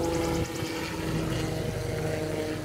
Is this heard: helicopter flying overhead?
yes